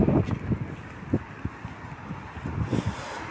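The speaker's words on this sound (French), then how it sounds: "Excusez-moi le vent, hein, ça souffle." Gusts of wind buffet a microphone outdoors during a town walk, producing uneven low rumbling bursts that rise and fall, loud and close, with no clear talk.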